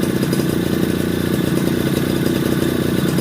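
A Suzuki Tornado motorcycle engine held at a light throttle, around 1500 RPM while the two-stroke oil pump is adjusted, a close, continuous rattling buzz with no talking.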